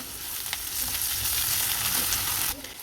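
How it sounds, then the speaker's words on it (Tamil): Onions with ginger garlic paste sizzle and crackle in a hot pan, a close, continuous frying hiss with faint stirring scrapes and no talking. "கால் ஸ்பூன் இஞ்சி பூண்டு பேஸ்ட்டு நல்லா வதக்கி விட்டுருவோம்"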